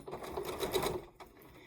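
A sewing machine runs in one steady, close burst of stitching as a quilt row is sewn near the edge, then pauses briefly before a short restart.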